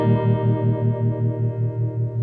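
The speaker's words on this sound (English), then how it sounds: "now this should be a little bit more intense vibrato." A sustained electric guitar tone pulses with a steady, fairly fast tube-amp vibrato wobble, ringing alone with no voices.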